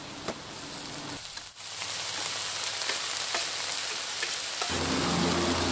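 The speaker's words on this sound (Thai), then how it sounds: "ก็ทอดเสร็จเรียบร้อยแล้วนะคะ" Stuffed eggplant frying in hot oil, a steady crackling sizzle running throughout, close and moderately loud, with a brief dip partway through.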